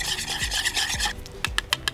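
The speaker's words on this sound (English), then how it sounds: "let me just mix in the honey first" Honey is stirred into wet batter ingredients in a bowl with a few quick rasping scrapes, followed by short, sharp taps of the utensil against the bowl. No voices are heard.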